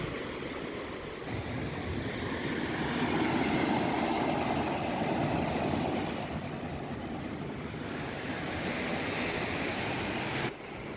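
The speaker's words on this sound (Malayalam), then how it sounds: "നല്ല വിശാലമായി കിടക്കുന്ന കടൽ" Sea waves wash in at Anjuna beach in Goa, a broad, steady surf roar that rises and falls gently and continues unbroken with no one speaking.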